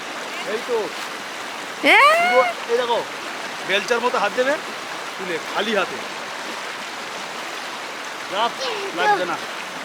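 A river stream at Doodh Pathri in Kashmir rushes steadily as a broad, even wash of water noise, with people talking over it at intervals throughout.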